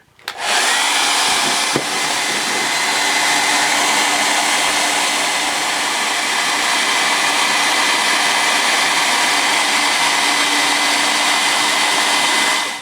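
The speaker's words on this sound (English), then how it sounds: "I need to get this decal off so I can clean this up using a hairdryer." A hairdryer blows steadily at close range, heating a decal on a pinball machine, a loud continuous airy roar that holds unchanged for the whole stretch.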